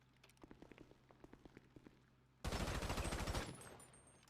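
Gunshots in a video game: a series of faint, evenly spaced single shots, then a dense, rapid burst of fire lasting about a second before it trails off, all fairly quiet.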